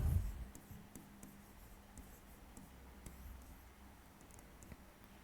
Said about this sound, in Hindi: अब मैं इधर निष्कर्ष लिखता हूं।